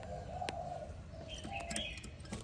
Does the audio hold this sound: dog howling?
no